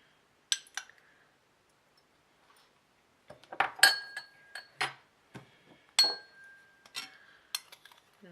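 An egg cracked into a bowl while preparing restaurant-style Indian chilli chicken: a few sharp, close taps and clinks in two clusters, with quiet gaps between and no talking.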